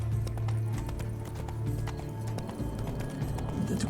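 Horse hooves clip-clop in a quick galloping rhythm in The Witcher 3: Blood and Wine, loud and close over a low ambient game drone, with a faint whinny and no speech.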